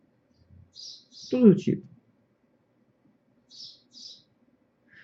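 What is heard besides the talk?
small birds singing nearby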